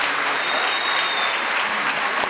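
A crowd at a teacher of the year ceremony applauds loudly and steadily, a dense wash of clapping that holds for the whole stretch without pause.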